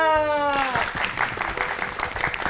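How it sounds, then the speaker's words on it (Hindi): A rising tonal sweep gives way to a burst of clapping from a small group, brief and lively, after a correct quiz answer, with a Hindi-speaking voice over it. "तालियां"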